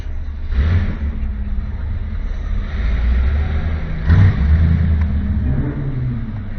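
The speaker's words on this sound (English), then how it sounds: "Classic cars." Classic Jaguar E-Type engine, close and loud, a low rumbling idle that swells into a couple of brief revs, with no talking over it.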